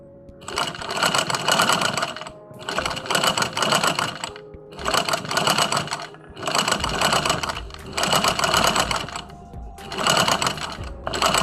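A sewing machine runs in six steady bursts of rapid mechanical stitching, each about a second and a half long with short pauses between, basting a cap sleeve on a garment pattern.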